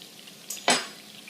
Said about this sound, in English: Now I'm putting a little bit of chicken stock in my pan and I'm going to scrape the bottom and get up all those tasty bits